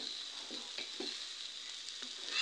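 Potato bhaji with mola fish is stir-fried in a pan: faint, soft sizzling with a few light scraping stirs close by.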